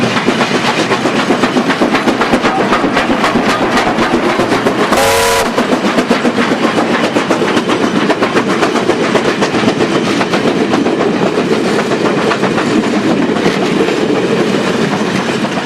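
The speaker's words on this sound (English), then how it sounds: "Passenger trains all appear within 20 minutes of each other from 3 different outlying stations." A passenger train arriving at Sanjiazi station in China, running in from an outlying station: a steady, loud rumble of wheels and cars with rhythmic clatter, broken around the middle by a short whistle blast.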